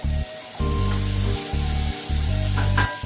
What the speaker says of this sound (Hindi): अनियन, कैप्सिकम को थोड़ा फ्राई होने दीजिए फास्ट गैस से